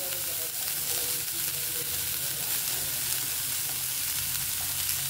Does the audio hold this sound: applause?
no